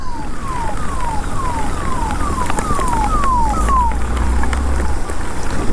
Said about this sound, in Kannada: ಆಂಬುಲೆನ್ಸ್ ಬರ್ತಿದೆ